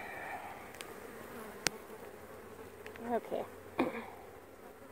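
Honeybees buzz around a hive with a plastic liner insert, a faint steady hum near and far with a few louder passes as bees fly close, and a brief spoken word.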